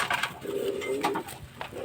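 Baby Kamagar pigeons give a short, soft, rolling coo near at hand, a low throaty burr amid a few light knocks and rustles.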